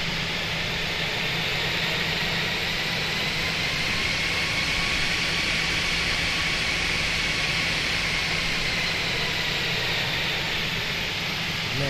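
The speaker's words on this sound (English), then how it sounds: "the sounds are so good on this airplane, even on the outside" Airbus A320 engines spooling up, heard from outside the aircraft while taxiing in the Fenix A320 flight simulator: a steady, loud, broadband jet roar with a faint rising whine, continuous throughout with no talk.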